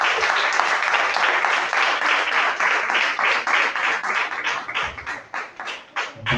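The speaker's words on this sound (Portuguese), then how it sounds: "Vamos receber o nosso pastor louvando a Jesus com a salva de palmas." A church congregation at a healing service claps to welcome the pastor, a lively round of rhythmic applause that sounds close and full before gradually thinning out toward the end.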